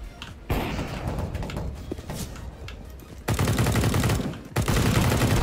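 Rapid bursts of automatic gunfire from the video game Counter-Strike: Global Offensive, loud and dense, broken by short gaps and restarting in heavy volleys.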